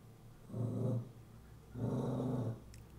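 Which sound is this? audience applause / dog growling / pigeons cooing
dog growling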